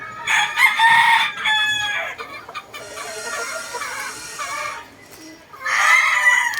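Roosters around two years old crow loudly and close by, several long overlapping cock-a-doodle-doos in succession with short gaps and some clucking between them.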